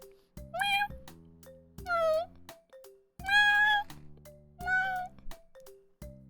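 A person imitating a cat, giving four drawn-out mewing cries in turn between bursts of a repeating electronic chime tune, close and clear.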